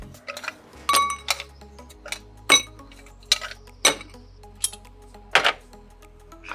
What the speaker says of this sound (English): now I'm gonna pop some ice in the glass